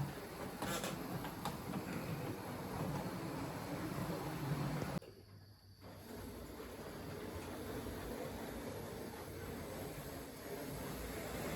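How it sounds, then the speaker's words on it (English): A Hornby Class 43 ICT 125 model train runs with its wheels slipping, a steady whirring motor hum and rolling noise that briefly dips partway through, then carries on close by, with no talk. "There's definitely a bit of a wheel slippage going on with this one."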